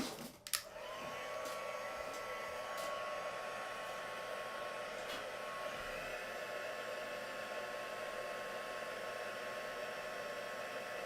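A heat gun melting embossing powder on a handmade card blows with a steady, loud whooshing roar after a brief click at switch-on and runs unbroken throughout.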